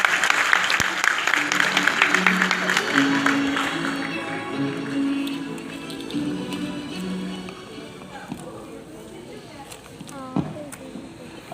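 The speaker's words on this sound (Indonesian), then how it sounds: "kita berikan tepuk tangan yang meriah." Audience applause at an education-ministry opening ceremony in Jakarta, a dense crowd clapping loudly at first, then thinning out, with background music and some talk mixed in.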